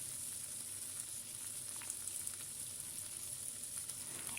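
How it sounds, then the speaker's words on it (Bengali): Tomatoes fry in a pan while being stirred for a Bengali broad bean dal, producing a quiet, steady sizzle with occasional soft scraping ticks. "কিছুক্ষণ নাড়াচাড়া করে ভেজে নিয়ে"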